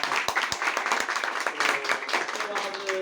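Audience applause at a product presentation, a steady patter of claps with occasional sharp individual hits, partly overlapped by voices and some chatter.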